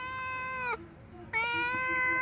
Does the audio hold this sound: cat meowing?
yes